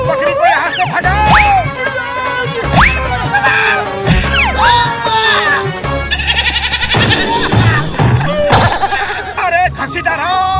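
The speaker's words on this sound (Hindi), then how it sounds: "इस बकरी को यहाँ से भगाओ।" Cartoon goat bleating in the Motu Patlu animated series, several loud wavering bleats in succession over music and sound effects, with characters talking in between.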